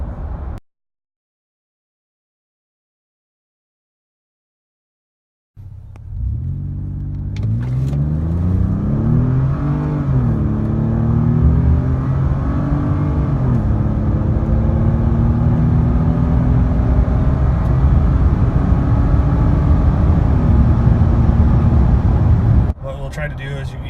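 A car engine revs and climbs through its gears in an afternoon commute drive, rising pitch sweeps dropping at each shift, loud and close with a steady rumble after a brief silence at the start.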